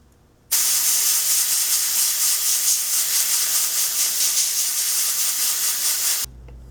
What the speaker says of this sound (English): And then using my airbrush, I'm just going to paint things over.